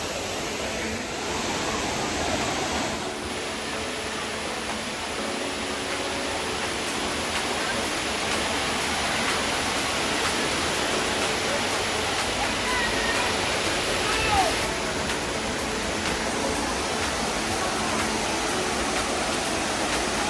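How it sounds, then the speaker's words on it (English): Rushing water at Dunn's River Falls in Jamaica pours in a steady, dense roar for the full twenty seconds. It is close, loud and unbroken, with no clear pauses or separate splashes. "we're approaching the falls at the moment"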